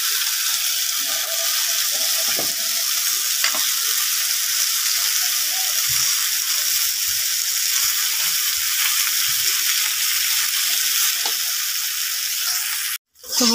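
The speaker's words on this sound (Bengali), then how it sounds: "এটা ভালো করে একটু বেশি করে ভেজে নেব।" Taro stolons frying in a wok, giving a continuous loud sizzle with occasional stirring clatter, no talking.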